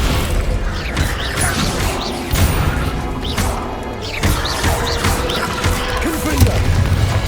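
Descendo spell cast in Hogwarts Legacy: loud magical impacts and crashing bursts recur over the span, with whooshes and mechanical clatter in a busy game soundscape.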